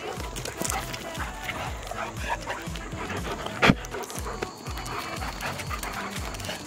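Dog panting in rapid, rhythmic bursts near a home pool area, close and steady, with a short louder noise midway and people talking in the background.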